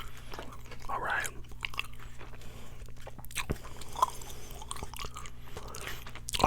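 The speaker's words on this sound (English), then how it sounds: "you can tell I'm chewing gum" Gum chewed close to the mic in a whispered ASMR session, with soft wet smacks and clicks repeating irregularly throughout and faint breathy sounds in between.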